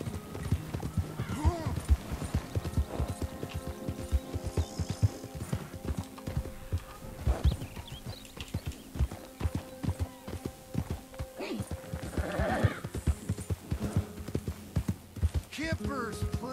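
Horse hooves clip-clop in a steady rhythmic gait with occasional neighs and whinnies in the video game Red Dead Redemption 2, moderately quiet, with game voices talking intermittently over the hoofbeats.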